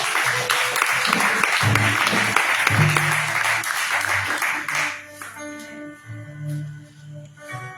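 A church congregation claps and cheers in praise during worship, dense steady applause for about five seconds before thinning out under lingering music.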